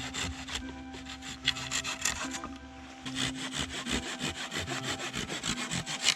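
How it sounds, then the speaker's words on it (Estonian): Hand saw cutting through wood outdoors while building a shelter, a steady run of rasping back-and-forth strokes that are close, loud and fairly regular, with no talking. "Kuradi hea saag on, ütleme ausalt."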